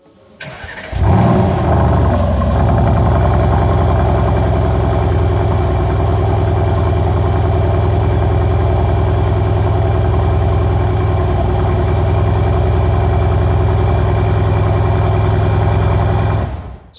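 A 2020 Mercedes-AMG GLC63 S with its 4.0-liter V8 bi-turbo engine starts with a quick crank and surge, then settles into a loud, steady, deep idle heard up close for the remaining quarter minute.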